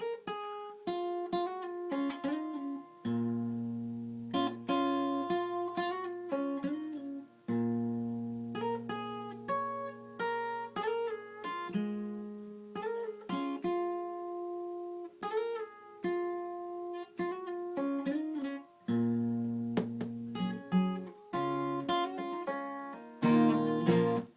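An acoustic guitar plays a solo melody of plucked single notes and short phrases over occasional low bass notes, close and clear with no voices.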